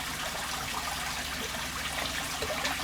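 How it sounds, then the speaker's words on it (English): Water siphoned from a home fish tank running straight into a bucket, a steady close trickling and gushing flow without pause, with no talking. "I just siphon the water straight from his tank"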